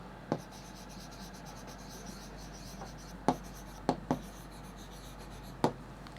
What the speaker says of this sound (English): So we write here